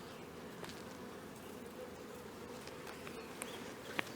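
Dense, continuous buzzing of many honey bees at a hive fills the air close by, steady and droning with small flickers of individual wings.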